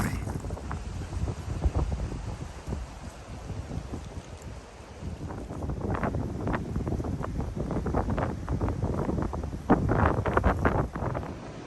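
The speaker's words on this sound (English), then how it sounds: "It's pretty windy up here." Gusty wind at a shelter area on the Appalachian Trail buffets the microphone in uneven bursts, rising and falling throughout, with rustling noise and no clear talk.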